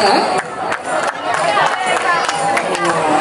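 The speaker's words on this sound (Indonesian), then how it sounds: "Kita berikan tepuk tangan yang meriah untuk Nagari Tarong Tarong Utara" A crowd at an outdoor anniversary celebration of traditional Pasaman arts claps and cheers for a performing group, a dense, continuous wash of applause close by with an announcer's voice over it.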